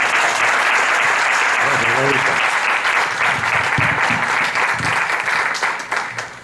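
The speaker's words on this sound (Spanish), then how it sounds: "un fuerte aplauso para Marcelino" An audience at a conference gives a speaker strong applause, thick continuous clapping that runs loud and then tapers off toward the end, with a brief voice and a few louder claps mixed in.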